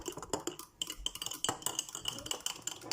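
Rapid spoon clinks and scrapes against a bowl as French vanilla mousse is stirred hard, close and busy with no voices.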